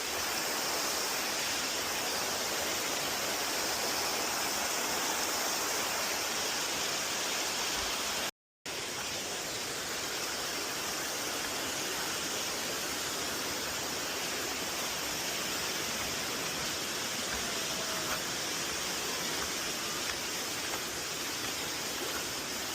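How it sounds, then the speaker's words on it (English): A jungle waterfall near a hidden village gives a loud, constant hiss and roar of falling water, broken only by a brief cut partway through. "Danger! Waterfall!"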